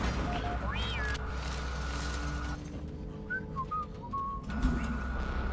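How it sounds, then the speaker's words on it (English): Someone whistling in the game Deep Rock Galactic, a few short rising and wavering tones over a steady background hum with faint talk. "Who whistled?"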